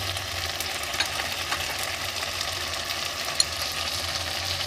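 Spice masala for chola dal bora sautés in a pan with a steady, close hiss of frying under occasional faint stirring scrapes, continuous and unbroken, with no talking.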